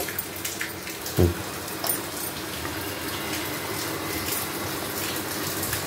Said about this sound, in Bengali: কড়াইটা একটু ধুয়ে নেব।